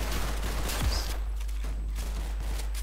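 Gunfire in the Roblox shooter Counter Blox: a quick burst of shots at the start, then a few scattered pops as the firing tapers off, all fairly loud and close.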